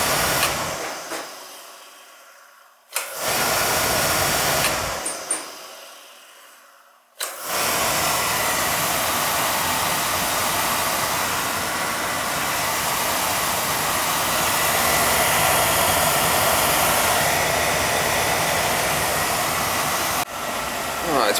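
A Beckett oil burner fitted with a new motor whirs up loudly, cuts out, fires again and stops, then settles into a steady, close, hair-dryer-like roar that continues to the end.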